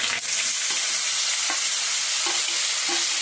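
Tempering crackles and sizzles steadily in a hot pan while a spoon stirs it, with scattered pops and scrapes over a continuous loud frying hiss and no talking.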